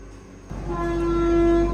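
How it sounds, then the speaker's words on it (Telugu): A brand-new 20-coach Vande Bharat train departs Kazipet Junction, its noise building from a low rumble into a loud, steady roar with a sustained horn-like tone as it gets moving. "కాశీపేట్ జంక్షన్ నుంచి మన ట్రైన్ అయితే బయలుదేరిపోతుంది. డోర్లు అయితే మూసుకుపోయాయి."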